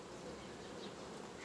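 Honeybees buzzing inside a hive being united through a mesh-screen divider, a steady dense faint hum filling the short moment without any voices.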